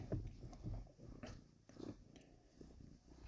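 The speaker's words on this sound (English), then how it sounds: "People love the sound of cats purring into the microphone" A domestic cat purrs close to the microphone, a soft, low, pulsing rumble that stays fairly faint and steady, with no talking.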